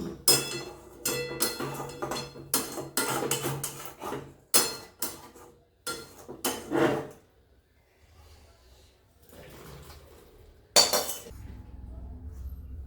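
Hilsa roe and tamarind curry is tipped from a pan into a serving dish after the gas is switched off, heard as a run of metallic clinks and scrapes of utensil on cookware, then a quieter stretch and one final clink.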